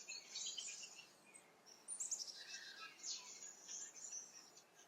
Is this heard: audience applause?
no